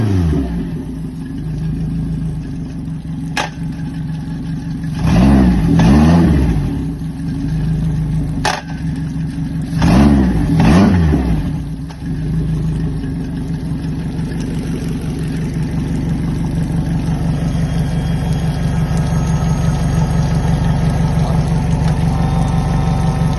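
A used Japanese Suzuki DF outboard engine runs in gear, a steady mid-pitched drone that swells twice in quick revving surges before settling back to an even running note, close and loud with no talk.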